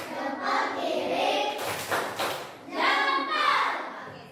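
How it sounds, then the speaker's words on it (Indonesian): A classroom of children doing a thumb-clap cheer at a school session, with rhythmic clapping and slaps mixed with chanting voices, in several loud bursts over a busy room. "Tepuk jempol. Jempol kanan. Jempol kiri."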